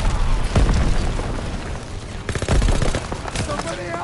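Sustained machine gun fire from a half-track's mounted MG in Call of Duty WWII, loud rapid bursts mixed with booming explosions and shouting voices in a chaotic battle.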